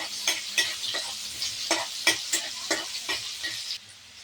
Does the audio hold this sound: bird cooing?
no